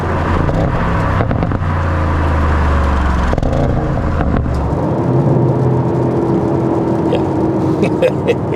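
An Audi RS7 Performance accelerates hard, its engine rising and dropping through quick, snappy gear changes, loud and close from inside the car, with a voice speaking briefly over the drive.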